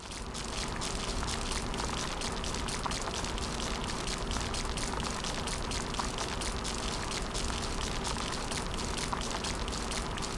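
Steady, even rainfall in the Riftbreaker game, with dense pattering spread across the whole stretch at a constant moderate level and no talking.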